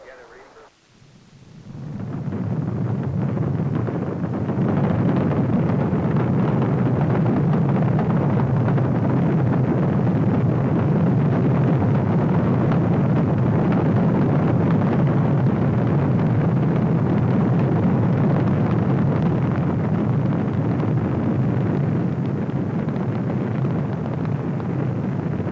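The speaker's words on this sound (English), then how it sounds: "The liftoff had been perfect." The Apollo 16 Saturn V rocket lifts off at Kennedy Space Center, a deep, heavy roar that swells within the first seconds and then holds as a loud, continuous, rumbling thunder for over twenty seconds.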